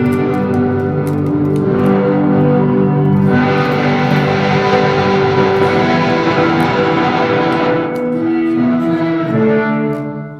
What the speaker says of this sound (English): you like turn off a reverb, and then there's also still reverb going